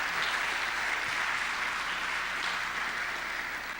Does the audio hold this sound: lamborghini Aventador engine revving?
no